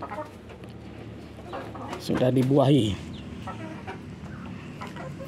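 Laying hens and a fertile rooster cluck, with one loud burst of squawking clucks standing out over steady farmyard background while a person speaks.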